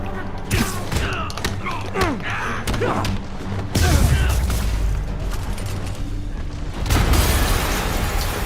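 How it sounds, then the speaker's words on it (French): A loud explosion bursts out midway in Marvel's Spider-Man Remastered with a deep rumbling boom, followed by another heavy blast later, amid clanking and busy game noise. "une explosion a..."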